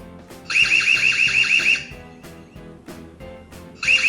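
Ezviz C3W security camera siren sounding loud and shrill in two bursts, a pulsing high warble lasting over a second and returning at the end, with clicks and lower tones underneath.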